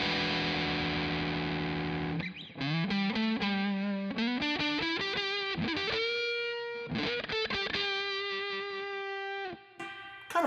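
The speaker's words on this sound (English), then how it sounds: "you can hear the fuzz come out a little bit" An electric guitar plays through a fuzz pedal with gain high and volume low, giving a thick, distorted tone. A sustained chord is followed by a run of single notes and bends, close and alone.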